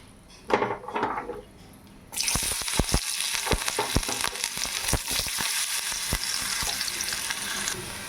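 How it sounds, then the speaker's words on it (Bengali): Potato pieces frying in hot oil in a pan, a quiet stretch before a loud sizzle bursts in, then a continuous crackling fry broken by sharp scraping clicks from a spatula stirring. "আলুটা ভেজে নেবো"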